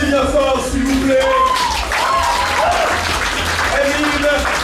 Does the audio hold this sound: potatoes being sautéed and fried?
no